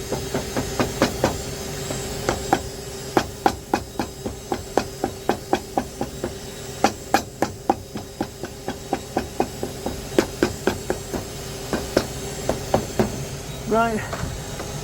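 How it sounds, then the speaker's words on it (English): A cobbler beats a shoe sole with a double-faced hammer, sharp close blows landing in a steady, repeated rhythm with brief pauses between bursts, over a faint background hiss. "I like to use a double-faced hammer, lots of pressure on there, big area on there."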